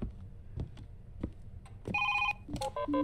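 A telephone rings with bright repeated electronic tones in the second half, following scattered knocks and background noise in a house.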